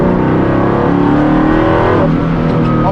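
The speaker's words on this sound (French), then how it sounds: "ce moteur, dès qu'elle passe 4000, la voiture, il s'enrage complètement" A Ford Mustang GT500 Eleanor engine revs hard and loud at close range, a sustained, dense roar with shifting pitch and no talk over it.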